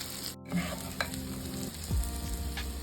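Kashmiri red chili powder and coriander powder fry in hot oil with a sharp close sizzle, broken by a few spoon scrapes and stirring clatters, one brief gap near the start, no voice.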